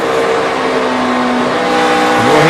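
A NASCAR stock car in the 2011 Dollar General 300 roars loudly into turn 1, a sustained engine drone with a slight pitch drop near the end.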